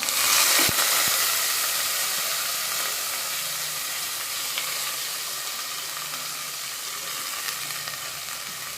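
Chopped onion goes into hot oil with mustard seeds for a green bean curry and fries with a loud hissing sizzle that starts with a couple of sharp knocks, then eases into a steadier, softer crackle with no speech.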